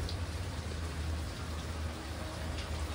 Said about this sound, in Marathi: तरी सुसाट पडतोय पाऊस